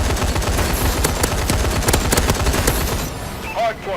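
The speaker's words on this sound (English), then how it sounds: "I'm just going to hold the trigger down and fire." Sustained heavy gunfire from the Paladin scorestreak in Call of Duty: Advanced Warfare, a loud continuous stream of rapid shots that stops near the end and leaves faint game sounds.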